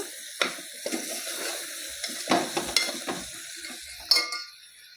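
Eggplant curry with turmeric being stirred in a pan, with soft sizzling and frying under scattered scrapes and clinks of a utensil against the pan, close and fairly quiet.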